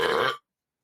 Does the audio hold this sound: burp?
yes